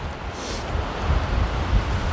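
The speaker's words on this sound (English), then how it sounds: "It's very windy, so I don't know if you'll be able to hear me very well" Strong wind on a volcanic ridge buffets the microphone in continuous low rumbling gusts, with a brief hiss of rustling near the start; no one speaks.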